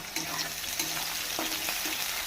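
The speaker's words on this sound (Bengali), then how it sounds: "পেঁয়াজটা হালকা ভাজা হয়ে গেলে সব সবজিগুলো দিয়ে দেব" Onion frying lightly in a pan gives a close, steady sizzle with a few scraping stirs over about two seconds, no talking.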